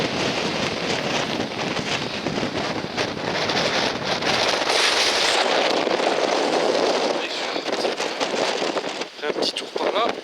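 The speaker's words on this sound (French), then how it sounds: "on va pas m'entendre beaucoup parce qu'avec le vent qu'il y a" Strong wind buffets the microphone on the Brittany coast, a dense, loud, continuous roar across the whole stretch with gusts swelling and easing, while someone speaks faintly underneath.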